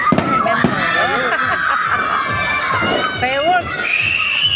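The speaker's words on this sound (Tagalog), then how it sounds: "Mga fireworks. Fireworks display." New Year fireworks display with a cheering, shouting crowd, steady cracks and pops of firecrackers under excited voices and children's yells, people talking close by.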